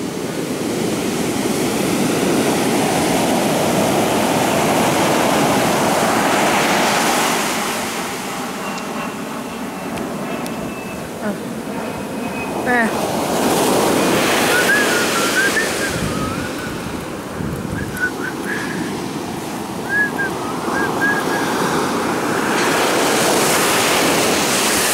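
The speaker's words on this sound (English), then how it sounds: "Man, look how big that wave is though." Large ocean waves surge and crash in loud, rolling bursts, washing far inland into a parking lot, with steady wind noise buffeting the microphone between the heavy swells.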